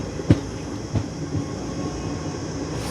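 Kolkata Haldibari Superfast Express moving, heard from inside a 3-tier compartment: a steady rolling rumble with a few soft clickety-clack wheel knocks.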